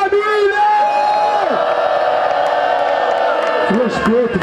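A crowd at a rap battle cheers and shouts loudly and continuously, with voices bellowing and whooping together over several seconds.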